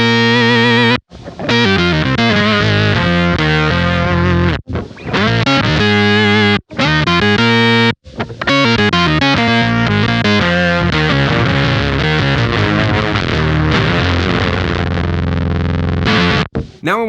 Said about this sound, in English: Having a signal like this that's split up into 3 different octaves really kind of lends itself to sounding like a synthesizer.